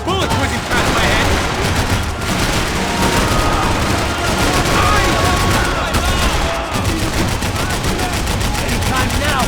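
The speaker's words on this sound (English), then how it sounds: "I can't concentrate with bullets whizzing past my head!" Relentless gunfire from the shooter game Max Payne 3, with bullets whizzing past in a dense, loud barrage of overlapping automatic bursts and impacts that never lets up, with no clear gaps.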